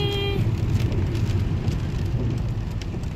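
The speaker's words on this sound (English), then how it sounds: "yeah, it is rainy." Steady rain falls on a rainy day, an even wash of hiss and patter that runs unbroken throughout with no one speaking.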